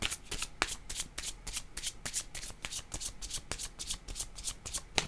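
Tarot cards shuffled by hand in quick, crisp riffles, a dense run of sharp papery snaps repeating steadily at close range with no talk.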